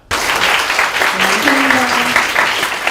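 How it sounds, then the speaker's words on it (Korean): Students applaud after a lecture by a lawmaker, a sudden onset of dense, steady clapping filling the room, with faint voices mixed in. "진심 어린 홍철호 의원의 강연에 학생들이 뜨거운 박수로 답했다"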